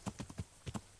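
Horse hooves clip-clopping on the ground in Kingdom Come: Deliverance, a quick rhythmic series of soft, fairly faint hoof beats with no talking.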